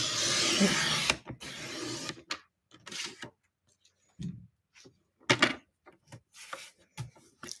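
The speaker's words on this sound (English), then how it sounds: "I love this trimmer." A paper trimmer slices a sheet of cardstock: a brief, loud scraping swish of the blade comes first, followed by a scattered run of soft, close clicks and taps as the paper and guide are handled.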